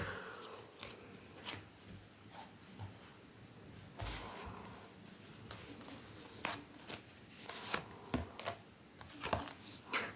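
Tarot cards are shuffled by hand close by and softly, with a run of light riffling clicks and scattered sharper snaps over about ten seconds and no talk.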